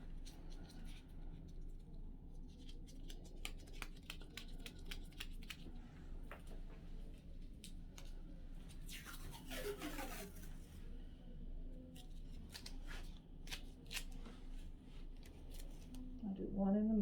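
Medical tape being handled and torn for a wound dressing over an abdominal pad, with scattered crinkles and a sharp ripping stretch mid-clip, close by, with a person talking softly in the background.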